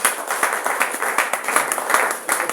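A church congregation at a Sunday thanksgiving worship service claps in a lively rhythmic beat, close and fairly loud, with distinct regular hand strikes repeating steadily.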